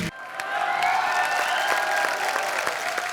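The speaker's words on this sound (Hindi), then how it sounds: "तो एक बार कंगना के लिए जोरदार तालियां।" Studio audience applause at a TV comedy show, a steady wash of clapping with light cheering, with a faint musical tone underneath.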